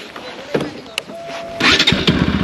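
A motorcycle engine starts and rumbles into a low, pulsing idle during a ride through an earthquake-affected area of Nepal, loud and close in the last second after quieter road noise.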